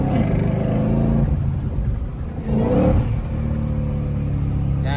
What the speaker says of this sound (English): you shouldn't be downshifting it like that